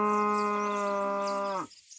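A single drawn-out cow moo, loud and close, with rich steady harmonics for about a second and a half before cutting off abruptly into near silence, used as a sound effect in a children's story.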